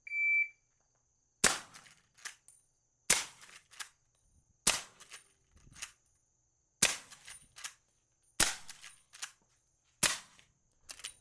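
A short electronic shot-timer buzzer beep, then a series of loud, sharp .45-70 lever-action rifle shots spaced a second or two apart, each followed by a brief echo.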